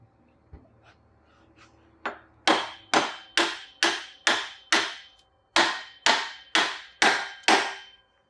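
A hammer taps a Harley motorcycle axle into place, about a dozen sharp, ringing metallic strikes in an even rhythm after a few lighter taps, loud and close with no talking.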